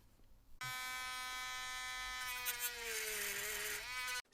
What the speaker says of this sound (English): might just have to cut this off with a Dremel